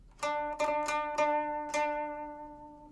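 A guqin sounds a run of five plucked strokes in an uneven rhythm in a longer suo technique, each chord ringing out and blending before a long decaying tail.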